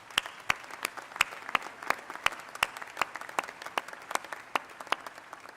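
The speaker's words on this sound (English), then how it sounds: "would you take a moment to join me in giving our friends and family a round of applause?" An audience at a university commencement ceremony claps for family and friends, with sharp, separate claps popping out at an uneven rhythm over a softer bed of applause.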